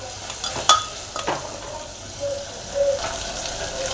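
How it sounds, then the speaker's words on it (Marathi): Half a bowl of soaked chana dal roasting in spiced masala in a pan, with a soft sizzle under a few close scraping and clinking stirs of a spoon and no talking. "एक 5 मिनिटं हे मसाल्यामध्ये असंच भाजून घ्यायचे।"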